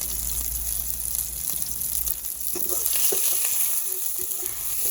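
Curry leaves sizzling in hot oil for Tamil egg gravy, a steady crackling hiss with brief stirring clatters, no voices.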